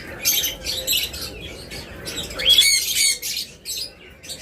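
Caged pet lovebirds or cockatiels, sold as breeding pairs, call at a bird seller's: shrill squawks and quick chirps come in bursts, close and lively, with no talk.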